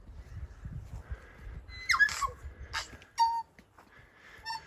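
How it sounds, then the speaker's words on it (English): An unfamiliar bird in New Zealand gives sharp, whistled calls with quick rising and falling notes, repeated in short bursts a few times against a quiet low background. "Never heard a bird call like that."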